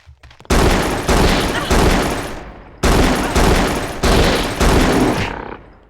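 Loud, close automatic gunfire from a weapon in the video game Frater: several long sustained bursts of rapid shots, separated by short pauses, dominating the clip.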